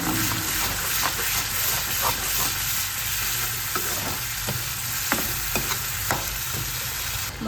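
Onion and masala fry in oil for a jackfruit curry, a steady close sizzle broken by regular stirring scrapes of a spoon against the pan.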